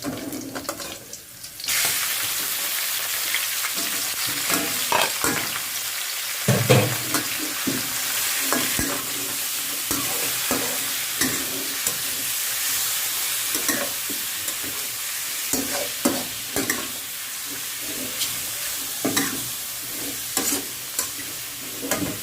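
Squid and chili being stir-fried in a pan, a steady loud sizzle with repeated scraping stirs, clatter and brief water splashes throughout, no voices.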